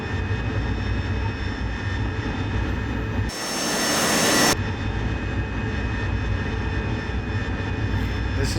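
An AV-8B Harrier jet engine in the DCS flight simulator gives a loud, continuous turbine roar with a steady whine, swelling into a brief harsher blast partway through before settling back.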